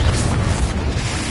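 A Confringo spell explosion in a Hogwarts Legacy-style game fills the moment with a dense, loud, rumbling blast roar that stays steady and close, with no talking.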